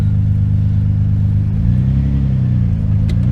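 A Nissan 350Z engine idles with a low, steady rumble close by, dipping slightly midway as it is put in reverse and the clutch engages.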